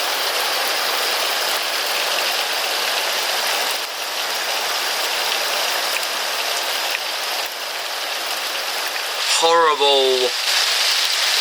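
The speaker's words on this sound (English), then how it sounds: "we had a few days of rain." Steady rain falling outdoors, a dense even hiss that fills the whole stretch, with a short spoken remark near the end heard over the downpour.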